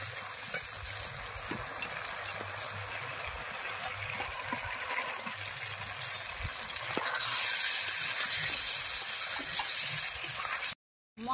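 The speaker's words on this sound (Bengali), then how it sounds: "এবার ভেজে রাখা পটলগুলো দিয়ে দেব।" Fried pointed gourd (potol) hits hot spiced oil in a pan and sets off a steady, hissing sizzle. The sizzle swells louder partway through and continues without any talking.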